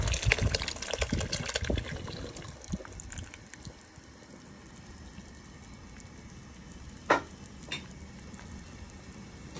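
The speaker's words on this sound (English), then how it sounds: "now that most of the water has gone from the katahar, so I will add my coconut milk to it" Coconut milk goes into a pot of cooking katahar (jackfruit) curry, a loud gush and sizzle at first that settles into a softer steady bubbling simmer, with a couple of brief clinks later.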